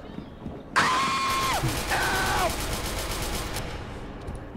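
Gunfire in the video game SCP: Secret Laboratory, heard as a rapid burst of shots with tonal in-game effects over a noisy background, loud at first and then fading.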